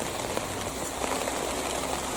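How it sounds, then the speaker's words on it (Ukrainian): Steady rain falls in a continuous, even hiss with soft patters on surfaces outdoors, moderately near and uninterrupted, with no voices. "такий дощик іде в нас"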